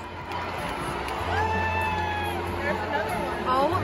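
An arena crowd at a concert cheers and whoops loudly and keeps going, with excited chatter and voices mixed through the roar.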